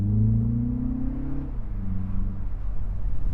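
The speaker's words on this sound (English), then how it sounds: "So let's give that car something to do." Engine of a 2025 Mini Cooper S convertible in go-kart mode revving up, a steady low drone climbing in pitch for about a second and a half, then dropping back and settling into a rumbling idle, close and fairly loud with no talk.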